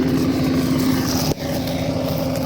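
A tractor plowing a garden plot in a field gives a loud, steady engine drone with a strong low hum. The drone dips briefly about halfway through, then carries on unchanged, with no voices.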